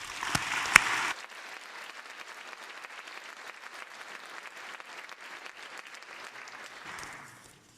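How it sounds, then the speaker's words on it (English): Audience applause at a winter college graduation ceremony: a dense, steady wash of many hands clapping from a large crowd, sustained for several seconds before tapering off at the end. "One more round of applause, please."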